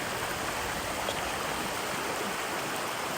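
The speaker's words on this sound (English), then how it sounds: "having your dinner by a creek, a snowy creek in the wilderness" A snowy creek in the White Mountains wilderness gives a steady, even rush of flowing water, close and constant with no other sounds.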